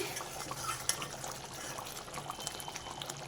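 Soft scraping and faint liquid sloshing as a capsicum masala curry is stirred in a pan, with one small clink of the utensil; quiet and close, with no talking.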